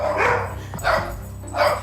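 A dog barks three times in a house, the loud barks spaced evenly about every 0.8 seconds with a low background hum and no talking.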